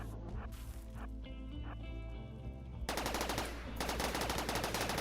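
Video-game gunfire shooting an enemy from behind rattles in rapid, dense machine-gun bursts that swell louder partway through, loud and close with no talking.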